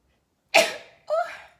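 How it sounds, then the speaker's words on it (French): A single sharp sneeze bursts out, followed a moment later by a shorter, softer vocal catch, with quiet around both. "Attention, je vais éternuer."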